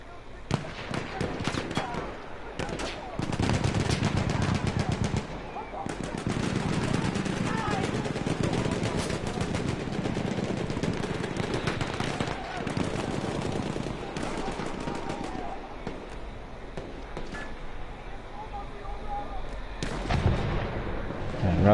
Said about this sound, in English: Coded is laying down some covering fire